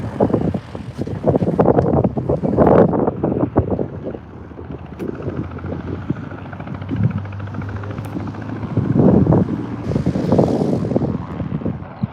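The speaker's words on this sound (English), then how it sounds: "Today the wind is blowing, well, a little bit variable there, but kind of straight down the runway." Wind gusts buffet the microphone at an airfield runway, a steady rumbling roar that swells and fades, with an aircraft engine droning underneath throughout.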